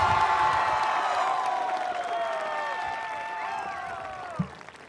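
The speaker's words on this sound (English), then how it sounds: "let's give him a round of applause so he can hear us from here." A graduation crowd claps and cheers for an absent coach, and the applause fades gradually from a strong start with whistle-like whoops riding over it before a brief thump near the end.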